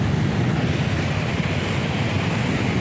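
Floodwater of the swollen Tinau river in Butwal surges in a continuous heavy rushing roar, steady and close, with a low rumble underneath and no talking.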